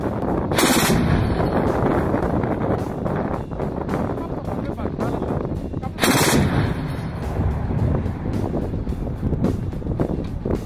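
Soviet-made S-60 anti-aircraft guns fire in loud, rapid, overlapping booms, with two especially sharp blasts standing out above continuous rumbling gunfire and gusty wind noise on the microphone.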